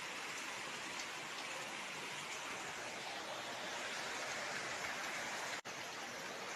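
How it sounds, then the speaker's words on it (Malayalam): Heavy rain pours down in a steady, dense roar that stays loud and even throughout, with no voices. "ഇവിടെയൊക്കെ നല്ല കനത്ത മഴയാണ്"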